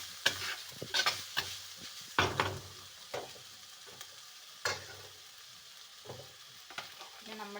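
Ground coconut, garlic, green chillies and curry leaves stirred in a pan for sardine curry, with repeated scraping strokes of a spoon over a faint sizzle, close and fairly quiet, with no talking.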